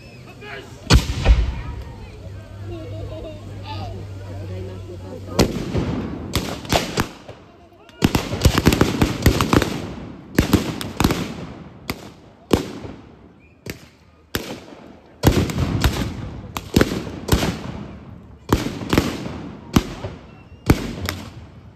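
Cannons fire in a reenactment of the April Uprising in Sofia, a series of sharp, loud blasts in irregular succession, some in close clusters. Voices are heard between the shots.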